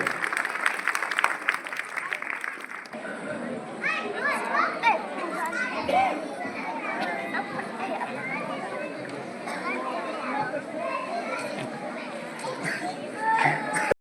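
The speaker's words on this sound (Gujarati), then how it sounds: "તાળીઓના નાથે વધાવીએ." An audience at a village honouring ceremony claps for an award, a short burst of applause at the start followed by a busy crowd murmur with children's voices and chatter.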